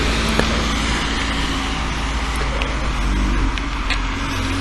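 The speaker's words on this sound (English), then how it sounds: "You can hear it's a quiet road because of how slow the traffic's going" Slow traffic rolls along a quiet road, a steady low rumble of cars and engines passing close by, continuous and fairly loud with no talking.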